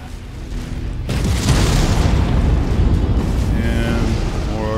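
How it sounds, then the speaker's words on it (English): A heavy, sustained boom of artillery shells exploding in an armored combat video game, rumbling loud and continuous for several seconds with no talking. "And more artillery."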